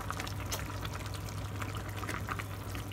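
Water pours in a steady splashing stream into a cooking pot of vegetables, close by, over a low constant hum.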